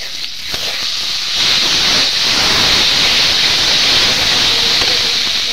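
Water hits hot spice masala in a pan for an egg curry, setting off a loud, continuous steamy hiss that swells and holds close up.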